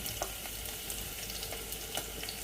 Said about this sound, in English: So as you can hear the sizzling, the pot was already hot when I was putting in